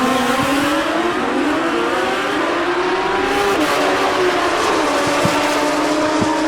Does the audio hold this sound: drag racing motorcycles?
yes